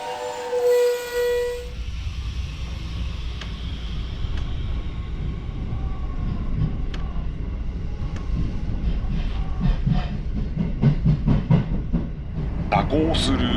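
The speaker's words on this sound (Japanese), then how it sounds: "JR 東海に残る国鉄車両211系0番台2編成全てが今まさに集結する" JR Central class 211-0 trains roll in on the Kansai Main Line with steady wheel rumble on the rails, a rhythmic clatter building toward the end and a brief whistle near the start.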